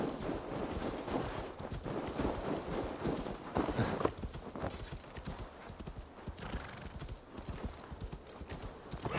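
A horse trots through Norway in the video game Assassin's Creed Valhalla, its hooves clip-clopping in a steady, close rhythm with occasional neighs.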